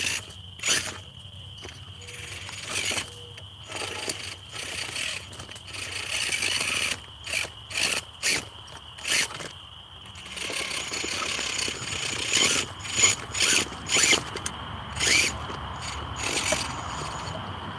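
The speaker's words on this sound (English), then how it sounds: "Oh, some scrapes. I hear it scraping." A motor run by a Rhino ESC scrapes and ratchets in repeated short mechanical bursts separated by brief pauses, close and moderately loud, with no voices.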